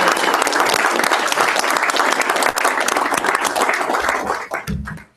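A boardroom audience at a state water board meeting breaks into steady, dense applause that fills the room at close range and fades out near the end.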